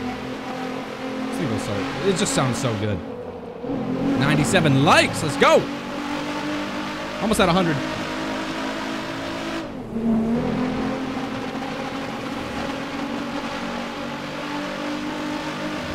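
A Nissan GTR R35 in GTA 5 sends out bursts of engine revving with shifting whines, possible tire squeal and whooshes, while someone talks throughout over the game noise.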